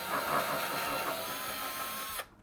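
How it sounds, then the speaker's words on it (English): A steady, high-pitched mechanical whine of a power drill drilling holes in furniture, running continuously for about two seconds, then cutting off abruptly. "So let's drill those holes in."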